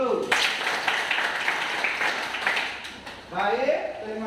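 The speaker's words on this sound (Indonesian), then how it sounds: "Tepuk tangan dulu" A classroom of students clapping together in a dense, steady burst lasting a few seconds, fairly close, before a teacher's voice returns at the end.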